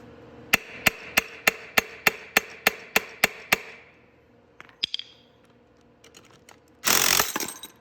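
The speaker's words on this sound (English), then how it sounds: "and then just tap it with a hammer" A hammer strikes a metal bar about a dozen times in a steady, even rhythm while removing the crank on a Venom X22GT 250cc motorcycle, each tap sharp and ringing, followed by a few scattered knocks and a short rough burst.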